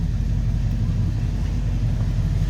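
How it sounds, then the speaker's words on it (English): Low, steady rumble of a carbureted V8 with a rebuilt carburetor idling in a 1969 Mercury Marquis Convertible, close and even, with no talking over it. "This has had the carb rebuilt, so it does idle and run nice."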